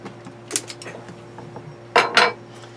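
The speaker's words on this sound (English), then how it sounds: "Take the clamp off." Metal clamp coming off a Volvo Penta fuel pump, a few light clicks and metallic clinks followed by two louder scraping rattles near the end over a faint steady hum.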